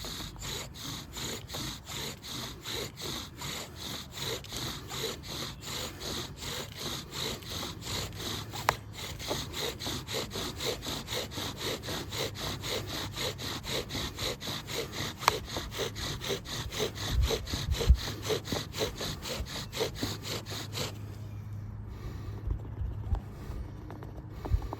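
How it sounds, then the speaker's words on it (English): Rapid, regular back-and-forth grinding of a bow drill spindle on a wet water oak board, steady for about twenty seconds, then the strokes stop and a quiet rustle remains. "Water oak is a great set to use for bow drill."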